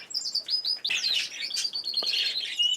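Two three-year-old female canaries chirp in quick, bright, overlapping tweets and short trills, close by and continuous, with no talking.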